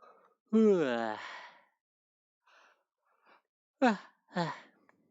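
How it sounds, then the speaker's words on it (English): A person on a VRChat stream lets out a long, drawn-out vocal yawn up close, rising and then trailing off, followed by a few short breathy vocal sounds after a pause. "How was that yawn? That was a slightly censored yawn."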